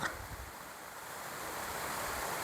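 A stream of flowing water beside cabbage gardens in Güzelyurt, Cappadocia, making a steady, close rushing wash that swells slightly over a couple of seconds with no voices.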